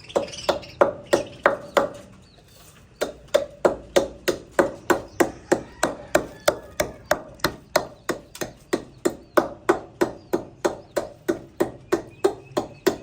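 Grain is pounded to feed parrots, about three firm thuds per second in a steady rhythm that pauses briefly and then resumes, close and clear.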